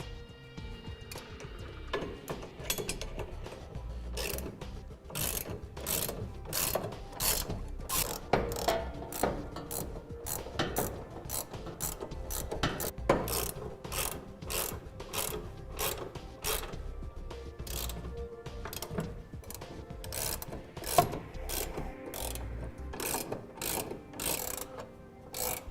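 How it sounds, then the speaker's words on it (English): Ratchet clicking in steady bursts as bolts are tightened down on a fifth wheel trailer hitch being installed on a 2004 Ford F-350 Super Duty, the rapid pawl ticks repeating close up with brief pauses between strokes. "Now we'll begin here by tightening down the 6 bolts that attach the center section to each of the cross"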